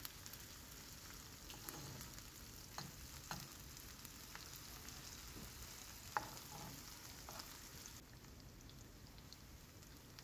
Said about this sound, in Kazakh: Жақсылап аунатып, бетін жауып, өзін бөлек пісіріп аламыз, қуырып аламыз.